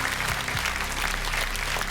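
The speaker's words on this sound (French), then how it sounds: "S'il vous plaît, applaudissements" A TV game show studio audience applauds, dense steady clapping from a full crowd that holds at an even level throughout.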